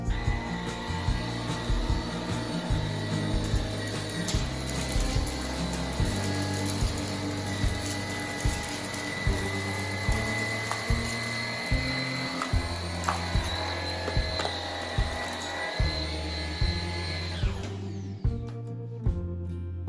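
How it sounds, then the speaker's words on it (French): A Cecotec Rockstar 300 X-treme Ergoflex cordless stick vacuum runs steadily along a baseboard, its continuous broadband whirr holding under background music before cutting off abruptly near the end. "on verra s'il arrive facilement à aspirer dans les angles"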